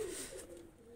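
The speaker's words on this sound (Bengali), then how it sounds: "এই দুইটা কবুতর রানিং কবুতর" Pair of breeding running pigeons kept in a cage for sale, cooing softly in a low steady purr that fades slightly toward the end, with no talk.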